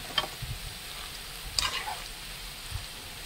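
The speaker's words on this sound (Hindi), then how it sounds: "इधर प्याज फ्राई हो रही ब्राउन अनियन के लिए" Onions frying in a pan to make browned onions for Hyderabadi haleem, with a steady low sizzle and a few soft stirring scrapes, heard alone at close range.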